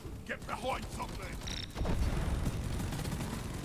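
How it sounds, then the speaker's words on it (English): An explosion in the Deep Rock Galactic video game: after some brief clicks and game noises, a sudden loud boom hits, followed by a sustained heavy rumble, with a voice heard before it. "I only heard one explosion."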